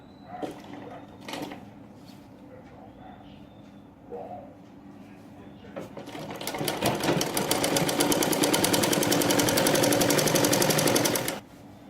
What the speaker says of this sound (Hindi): उसी सिलाई पे पूरी राउंड राउंड हम स्टिचिंग करेंगे।